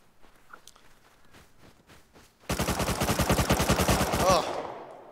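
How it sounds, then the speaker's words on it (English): Rapid nonstop gunfire in the survival game Rust bursts in midway, a dense run of close, loud shots following quieter footsteps and rustling. "I was just shooting right over your shoulder nonstop."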